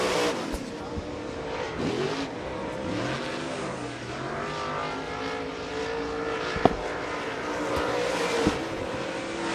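A modified race car roars around an oval track through the turns, its engine note rising and falling with revs and gear changes, steady and fairly loud, with a few sharp clicks and no talking.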